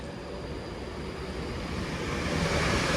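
Class 390 unit 390 002 passing through Rugby station, a steady broadband rumble and rush that builds gradually in loudness over a few seconds, close and continuous with no voices.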